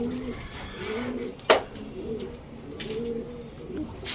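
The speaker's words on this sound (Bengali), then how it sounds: "দেখেন সব পাল্লা লাইনের কবুতর, দেখেন কবুতরগুলো দেখেন।" Silver pigeons of a racing line coo in soft, repeated rolling calls close by, one after another, broken by a single sharp flutter or knock partway through.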